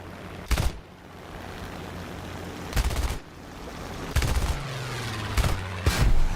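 War Thunder air battle gunfire: several loud bursts of aircraft machine guns in short volleys spread across the stretch, over a steady engine and wind rumble, with no talking.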